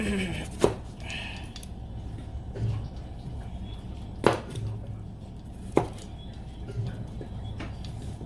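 A knife chops through potatoes on a cutting board, dicing six of them into small cubes; a few sharp, spaced knocks ring out against a soft steady background hum, with no talk.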